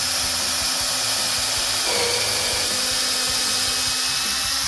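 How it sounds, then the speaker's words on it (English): A power drill runs continuously at close range, a loud steady whirring grind as it pre-drills screw holes in wood for a picnic table, with no speech. "now that we pre-drill the holes for the screws to go through here"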